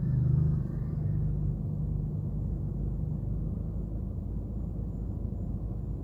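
Steady engine rumble of a car driving along a road behind a stopped truck, continuous and fairly close, with no talk over it.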